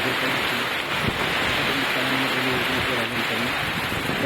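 Heavy rain pouring down on a farm field at sowing time near an onion plot, a loud unbroken wash of noise with wind buffeting the microphone, steady from start to finish.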